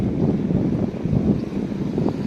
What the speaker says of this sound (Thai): มันมีลมนะคะเพื่อน